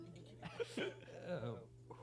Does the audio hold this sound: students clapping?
no